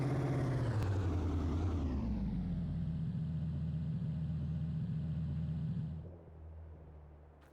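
A car engine winds down from a higher rumble to a steady low idle after pulling in, then drops to a quieter hum near the end, close and continuous with no talk.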